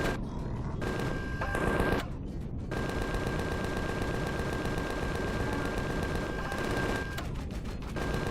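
Minigun in the video game Empyrion firing long sustained bursts, a loud continuous mechanical roar of rapid shots with a steady whine, pausing briefly a few times.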